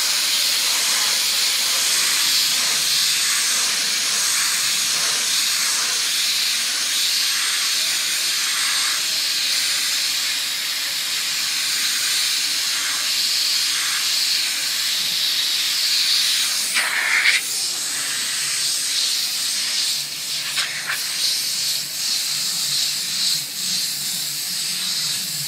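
An airbrush blows a steady, loud hiss of air to dry paint on rayon fabric. The hiss runs continuously with slight surges and a brief burst near the end.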